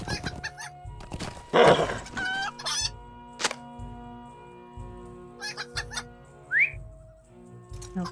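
Chickens cluck and a rooster crows around the chicken coops in a holiday-themed video game, with short whistle-like tones and background game music, moderately loud with no talking.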